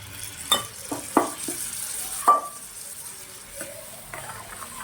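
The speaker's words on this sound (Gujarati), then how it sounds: "અને અહીંયા મેં 3 ટમેટાની પ્યુરી બનાવેલી છે એ આપણે એડ કરી દઈશું." Tomato puree for restaurant-style chole added to a hot pan, a soft sizzle with a few sharp splashes and spoon clinks at the start, then quieter frying.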